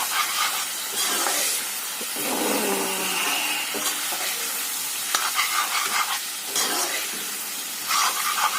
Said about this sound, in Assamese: বিলাহীখিনি দি অলপ ভাজিম, বিলাহীখিনি সিজালৈকে।